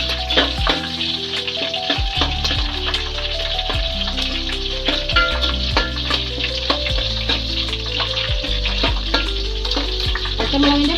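Curry leaves and slit green chillies fry in hot oil for a pickle, a dense, loud, continuous sizzle with sharp crackles and pops throughout.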